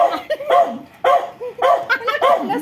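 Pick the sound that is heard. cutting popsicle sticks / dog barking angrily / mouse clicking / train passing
dog barking angrily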